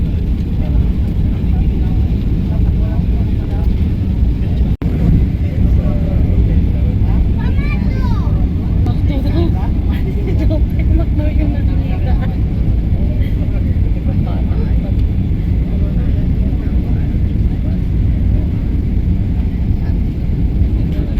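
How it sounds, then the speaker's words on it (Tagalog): Airplane cabin during landing in the Philippines, a steady loud engine and air rumble filling the whole stretch, with voices talking faintly underneath. "We are landing right now,"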